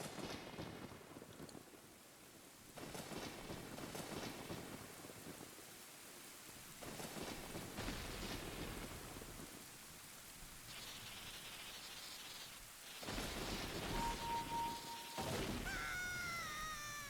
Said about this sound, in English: the lightning strike destroys the tomb and opens up a hole that we can get in there